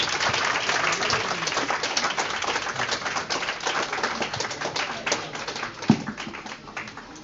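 An audience claps at the inaugural ceremony of a Recording Club convention in Dahod, Gujarat, producing rapid, crisp, overlapping claps that hold steady and then gradually thin out, with one sharp thump near the end.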